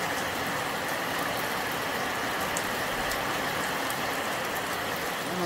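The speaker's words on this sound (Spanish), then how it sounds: "Así es como nos llueve." Steady broadband rain falls on a ranch, an even, continuous wash of patter with no breaks and no voices over it.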